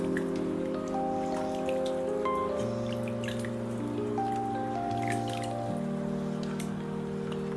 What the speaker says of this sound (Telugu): ఈ విధంగా కడుక్కున్న వాటిని వడకట్టేసుకోవాలి.